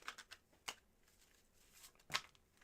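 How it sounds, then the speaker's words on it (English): A deck of playing cards is shuffled by hand up close, with quiet riffling and several crisp snapping bursts at an uneven rhythm and no voices. "Here are your 5 official shuffles, my friend."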